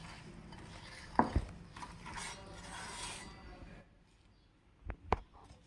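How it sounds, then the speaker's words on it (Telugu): A whisk scraping and clinking through maida flour batter flavoured with cardamom powder in a bowl, with a few sharp metallic taps near the start and end over a soft continuous stirring noise. "ఒకసారి మళ్ళీ విస్కర్తో మొత్తం మిక్స్ చేసుకోండి"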